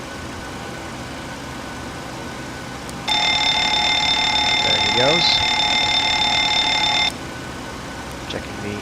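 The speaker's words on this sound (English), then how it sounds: "Checking the fire alarms." A cockpit fire alarm test during an aircraft's pre-flight checks before a flight from Luqa, Malta, sounds a loud, steady electronic warning tone for about four seconds, with a brief remark spoken just before.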